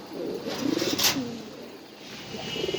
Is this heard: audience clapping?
no